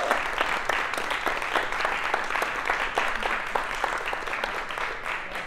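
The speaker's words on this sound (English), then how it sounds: "How about a round of applause?" A small group applauds at a 50th anniversary celebration, quick irregular claps fairly close and moderately quiet, continuing steadily through the moment.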